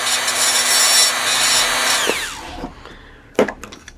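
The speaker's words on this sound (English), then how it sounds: "carefully taking the Dremel and kind of weathering the edges" A Dremel rotary tool weathers the edges of a model piece, whining steadily for about two seconds and then winding down, followed by a few scattered taps and handling knocks.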